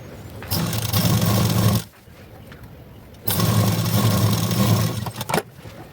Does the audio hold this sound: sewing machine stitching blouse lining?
yes